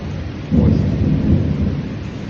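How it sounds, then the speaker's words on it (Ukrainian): Heavy rain pours steadily during a Texas thunderstorm, with a deep rumble of thunder swelling underneath and a dense, continuous wash of noise throughout, no voices. "І дощ, дощ, дивіться, вау."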